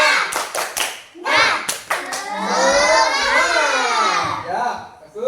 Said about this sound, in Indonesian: Ya, kita tepuk semangat dulu.